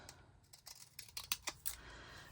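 Deckle edge scissors snipping paper for a postage-stamp craft, a quiet series of short crisp cuts in an irregular rhythm, close and alone.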